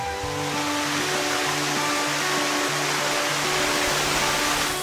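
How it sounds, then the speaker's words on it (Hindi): A steady, dense rush of falling water roars continuously, loud and close, with a faint hum underneath. "ये झरना एयरपोर्ट और राजधानी के सबसे नजदीक है।"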